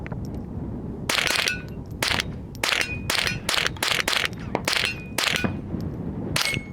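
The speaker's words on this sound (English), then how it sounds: "The very humble, very inexpensive Marlin 795 22 LR rifle." Sharp, loud shots from an inexpensive Marlin 795 .22 LR rifle at a shooting range, about a dozen reports in an uneven sequence, some in quick pairs, each with a short ringing tail over steady background noise.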